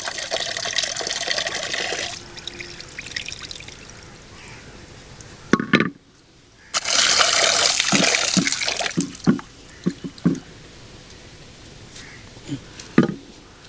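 Broken wheat is washed with water: a running tap gushes, pauses briefly, then returns loudly, and sloshing, splashes and drips follow close by.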